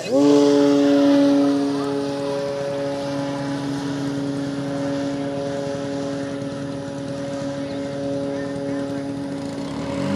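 An E-flite Carbon-Z Cessna 150T RC airplane with a 2.1 m wingspan drones steadily overhead as it comes in to land, a continuous tonal propeller hum that is loudest at the start and then holds even.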